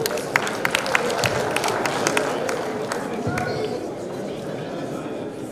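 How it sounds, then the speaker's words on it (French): Audience applause at a French-language school quiz competition between Ecole Berge and Green Hills Academy: a burst of sharp claps from a crowd amid chatter, strongest at first and then thinning into a steady murmur of voices. "On peut applaudir."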